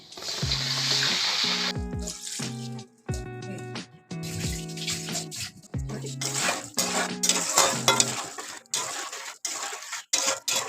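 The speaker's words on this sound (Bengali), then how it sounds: "আলুগুলো ভাজা হয়ে এসছে, এবার আমি মশলাগুলো দিয়ে দেবো" A metal spoon scrapes and clanks against a pan as cumin powder, coriander powder, sugar and salt are stirred into frying potatoes, with ringing metallic knocks in irregular bursts over a soft background sizzle.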